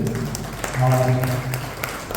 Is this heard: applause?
yes